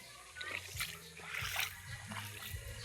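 Rainwater splashes and sloshes on the ground at a school during rain, short irregular splats and trickles close by at low level.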